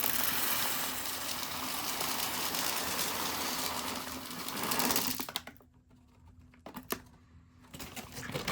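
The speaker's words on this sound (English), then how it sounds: "You want to just open it up and pour it in the tub." Desiccant granules from a Camco moisture absorber pour in a dense, gritty rattling stream into a plastic tub, then stop abruptly, followed by a few scattered clicks and light handling sounds.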